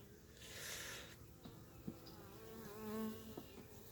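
Honey bee colony buzzing during a hive inspection, a steady close insect drone that rises and falls with a few louder swells, with faint handling noises and no talk.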